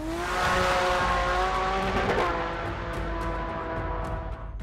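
A Ford 300 inline six engine runs with a steady, deep rumble that holds fairly even and loud for several seconds before easing slightly, with no voices.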